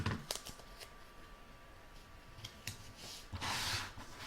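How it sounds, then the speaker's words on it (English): Adhesive tape is pulled and pressed down onto placemat fabric in a quiet sewing setup, giving soft close rustles and short crinkly strips, ending in a longer ripping pull near the end. "I'm just going to put a little bit of tape down so that it doesn't move."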